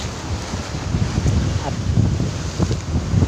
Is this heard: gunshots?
no